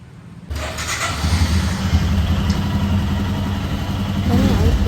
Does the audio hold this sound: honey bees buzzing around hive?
no